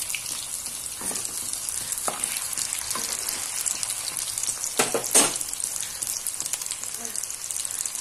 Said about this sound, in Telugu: మీడియం ఫ్లేమ్లో పెట్టుకొని బాగా కాల్చుకోవాలి బాల్స్ని